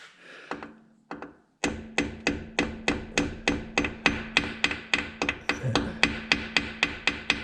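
A hammer lightly taps a bearing into the engine cover of a 2001 Yamaha V-Star 1100 motorcycle during a starter sprag replacement, with a few uneven knocks followed by a steady run of about twenty evenly spaced metallic taps, close and crisp.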